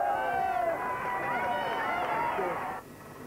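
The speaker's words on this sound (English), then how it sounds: "the Blairs left their North London home to be welcomed by a boisterous crowd of well-wishers" A boisterous crowd of well-wishers cheers and calls out in a North London street as the Blairs leave home, a dense babble of many voices that drops away abruptly near the end.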